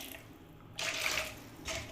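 Water is poured into a bowl of semolina to soak it for dhokla, a steady near splashing pour that starts, runs for about a second, then briefly resumes with no talk.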